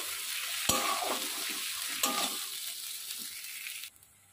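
Pointed gourd and fish bharta stirred as it fries in oil, a bright continuous sizzle with scraping spatula strokes and two sharp knocks against the pan before it cuts off.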